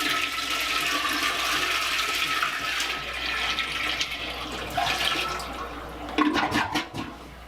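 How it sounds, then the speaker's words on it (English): A large bucket of water poured into a toilet bowl to drain it for replacement, producing a loud, continuous rushing and swirling flush that gurgles and splashes toward the end. "if you pour a large bucket of water down, it'll start basically a suction process"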